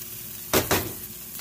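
Chopped onion, cooked until translucent for stewed beans with güero chiles, sizzles in a pan in two close, loud bursts as it is stirred, then settles back to a low background.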